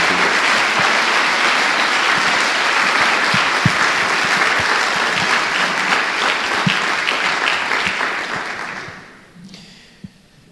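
A church congregation applauds at a worship service, dense sustained clapping filling the room for about nine seconds before fading quickly into near silence.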